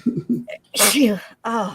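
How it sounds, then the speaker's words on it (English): A sudden loud sneeze bursts out in the middle of the clip, close and sharp, set between spoken words before and after it. "I'm just about to sneeze again."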